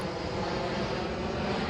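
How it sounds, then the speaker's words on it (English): A Southwest Airlines airplane passes overhead near a parked camper trailer, its steady, loud engine roar filling the whole moment as a continuous broadband rumble with no talking. "Let the plane pass by."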